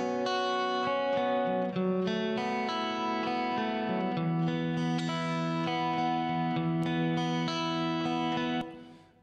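Synthesized sustained chords run through a modulated reverb effect built in Soundtrap, shimmering layered tones with wavering chorus-like movement, steady and loud for about nine seconds before the wash cuts off and fades.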